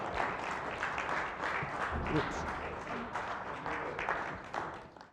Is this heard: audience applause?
yes